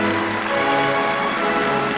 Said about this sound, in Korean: 공연은 관람자들의 열렬한 박수갈채와 찬사를 받았습니다